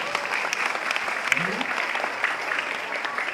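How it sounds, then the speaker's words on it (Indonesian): Audience applause at a stand-up comedy show, steady clapping throughout with a brief voice rising over it midway. "Tepuk tangan untuk ibu wanita"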